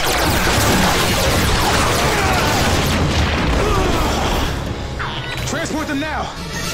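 Weapon fire and explosions from a Power Rangers Beast Morphers action scene: dense, loud booms and blasts roll on without a break, with voices shouting over the barrage.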